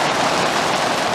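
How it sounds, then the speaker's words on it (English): Heavy rain pours down in the desert, a steady, dense hiss of drops that stays constant and fairly close throughout, with no voices. "Well, the rain's really coming down now."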